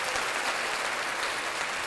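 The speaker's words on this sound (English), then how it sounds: "Let's clap that up." Audience clapping in a studio setting, a short, even burst of many hands applauding together at moderate loudness with no pauses.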